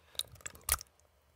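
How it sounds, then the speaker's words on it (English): Dog food squelching wetly out of a can as a sound effect, a couple of short, close, soft squishy bursts, the second louder and longer, then quiet. "It's the sound of dog food coming out of a can, which is weird and gross."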